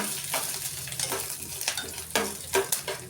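Garlic and curry leaves sizzle and fry in a hot pan, with steady crackling broken by several louder bursts of stirring, close and alone with no voices.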